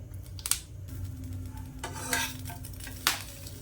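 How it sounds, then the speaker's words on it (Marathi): Green chillies roasting on a hot griddle in a home kitchen: a quiet, steady low sizzle with a faint hum underneath, broken by three sharp scraping or stirring clatters. "हा ह्या मिरच्या आहेत ना मी डाक पाडेपर्यंत चांगल्या भाजून घेते"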